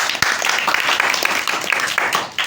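An audience claps together at a children's radio programme featuring a school in Orangi Town, a dense, steady patter of many hands lasting a couple of seconds with no voices over it.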